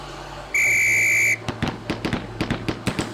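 In the Police Quest SWAT video game, a single sustained whistle blast sounds clearly, then gives way to a rapid series of sharp gunshot cracks.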